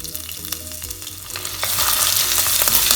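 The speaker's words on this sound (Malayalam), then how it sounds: "ഇഞ്ചിയും വെളുത്തുള്ളിയൊക്കെ നന്നായി ഒന്ന് മൂത്ത് വരുന്നവരെ നമുക്ക് എണ്ണയിലൊന്ന് വഴറ്റി യോജിപ്പിക്കാം" Crushed ginger and garlic fry in coconut oil in a clay pot, first a soft crackle with stirring scrapes, then a louder, dense sizzle swelling up partway through.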